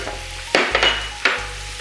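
Red and green peppers being stirred in a hot pan: a bright, continuous sizzle with a few scraping spoon strokes and short bursts of frying, close and loud, with a steady low hum underneath and no speech.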